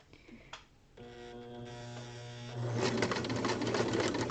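A sewing machine runs steadily along a seam with pins in the fabric, its motor hum rising to a faster, louder whir partway through, alone with no talk.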